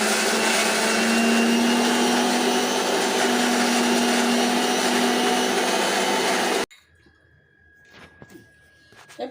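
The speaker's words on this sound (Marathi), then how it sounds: "हे मिक्सरमधून मी आता बारीक करून घेणार आहे" A kitchen mixer grinder whirs loudly and steadily as it grinds fresh grated coconut, green garlic shoots and salt into chutney, then cuts off abruptly, leaving a quiet room with faint clicks and handling sounds.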